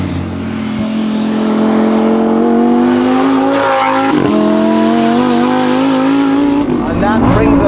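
A Novitec-tuned Lamborghini Huracan STO engine screams up toward 9,000 RPM, a loud sustained high-pitched wail with rising and shifting harmonics running through the whole stretch, close and continuous.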